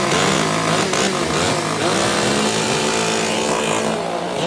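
Engines of a West Virginia tree service crew run together, a loud continuous roar of several small motors revving and droning, likely chainsaws and equipment, with no talking.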